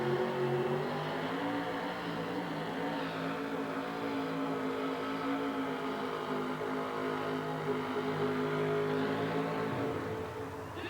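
A big injected alcohol-fueled engine in a pulling vehicle roars loud and sustained at a 1987 USHRA event in Oakland, its harmonic drone holding steady with slight pitch shifts throughout.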